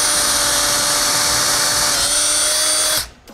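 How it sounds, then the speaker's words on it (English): A power drill bores a hole into a subwoofer box panel, a loud continuous high-pitched whine held for about three seconds before cutting off abruptly. "I'm just gonna drill a hole here real fast."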